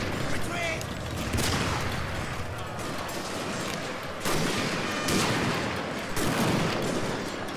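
Massed rifle volleys crack across a Boshin War-era battlefield in the strategy game Shogun 2: Fall of the Samurai, three broad bursts of gunfire rising out of a constant din of battle noise.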